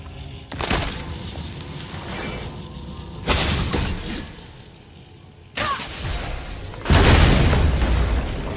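In God of War (2018) gameplay on PS5, objects shatter and burst in a string of loud, crunching breaks, four heavy impacts spaced a couple of seconds apart, each followed by a rumbling, debris-filled tail and no voices.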